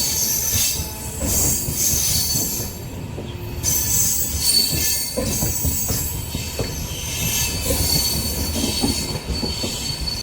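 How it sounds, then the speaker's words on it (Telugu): Amrit Bharat Express train pulling out of Ongole station: continuous loud rolling rumble with rhythmic wheel clatter and high metallic squeals from the wheels, steady throughout. "వివేక్ ఎక్స్ప్రెస్ వెళ్ళిన తర్వాత సాయంత్రం 4:08 మన ట్రైన్ తిరిగి బయలుదేరింది"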